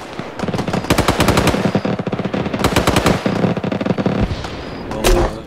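Bursts of machine gun fire in the ARMA 3 military shooter, rapid rattling volleys in several loud close strings separated by brief pauses, ending with a single heavier report.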